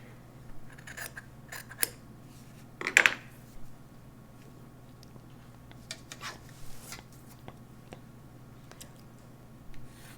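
Scissors snip through fabric while trimming excess seam allowance from a torso sloper fitting shell, giving a few quiet, scattered cuts with one brief louder burst in an otherwise still room.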